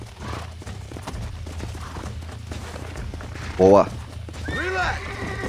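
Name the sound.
horse hooves and stallion neigh, Red Dead Redemption video game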